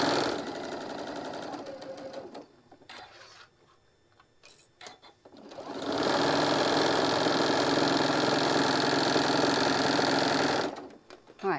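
Sewing machine topstitching a stained glass quilt block, running in short bursts early on, pausing with quiet handling noises, then a long steady loud whir for about five seconds before stopping.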